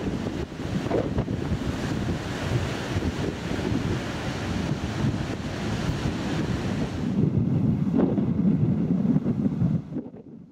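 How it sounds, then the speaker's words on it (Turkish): Strong wind roars and buffets the microphone steadily, with surf churning underneath, before the noise suddenly drops away at the very end. "Ich mag es nicht, wenn der Wind so stark weht."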